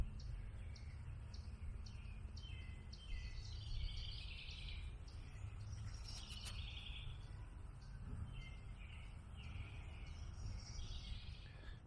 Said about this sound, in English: The bird song back here is epic.